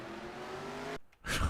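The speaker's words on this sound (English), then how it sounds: "Oh, I hear more cars piling in" Race car engines from the NR2003 racing game roar in a dense, steady drone at a Bristol dirt race, then cut out briefly before a loud burst returns.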